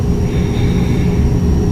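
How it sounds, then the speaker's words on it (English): An airplane passes overhead as a loud, steady, low roaring rumble that fills the whole moment without easing, heard alone with no talking. "that sounds like an airplane"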